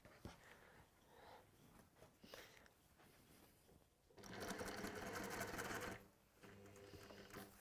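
A sewing machine runs at a textile worktable in two loud bursts, one long and then a shorter one, after quieter handling noises.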